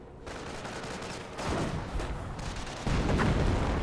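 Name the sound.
mortar shot in Company of Heroes video game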